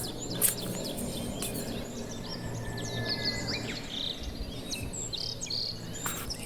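A bird chirps from under a house roof in short high twittering bursts, moderately close, with faint insect buzz and background noise behind it.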